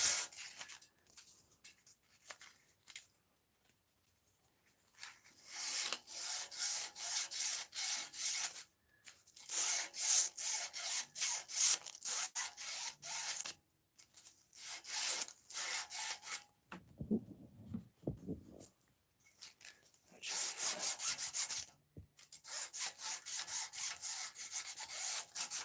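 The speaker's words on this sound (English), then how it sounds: "I'm just going to take the sandpaper off, the rust off of there" Sandpaper scrubs rust off a Trek mountain bike part in repeated back-and-forth bursts, close and fairly quiet, with brief pauses between strokes and no talking.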